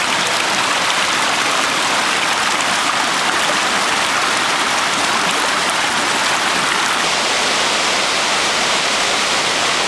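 A mountain waterfall pours in a loud, dense, unbroken rush of falling water, heard close up and alone for the full ten seconds.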